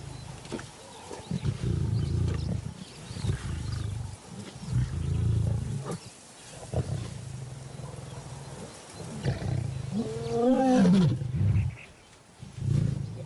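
Lions in the wild roaring, a lioness facing intruding males, with deep repeated rumbling grunting roars in rhythmic bursts, loud and fairly close, and one rising roar near the end.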